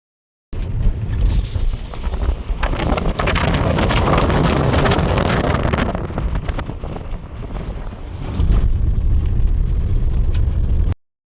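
Warm wind buffeting the microphone on a mountain, a loud continuous roar with gusty surges and rumbling low-end, steady for about ten seconds with no talking.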